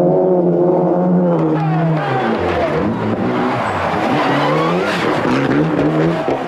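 Revving Mitsubishi Lancer engine, loud and close, with pitch sweeping up and down through several throttle blips over a raspy, rough-edged tone, with no voices.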